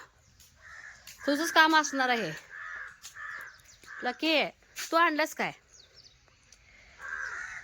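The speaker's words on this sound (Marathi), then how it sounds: "गार्डनमध्ये ना कावळ्यांचा आवाज येतोय इतकं कसा आवाज येतोय" Crows caw loudly and repeatedly in harsh bursts, close by in a garden, while someone speaks in between the calls.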